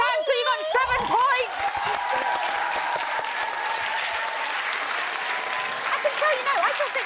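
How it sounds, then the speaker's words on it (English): Loud, sustained audience applause at a televised school quiz competition between two teams, broad steady clapping from a studio crowd, with a few tonal sounds and brief voices threaded through it. "Give them another round of applause."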